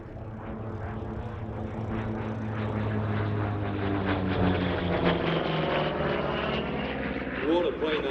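A Grumman Bearcat propeller fighter aircraft drones past at an airshow, its engine note swelling as it nears and then shifting pitch as it moves on, loud and continuous.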